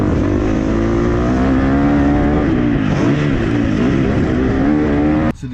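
Motorbike out on a ride, engine droning steadily and loud throughout with wind roar, cutting off abruptly near the end.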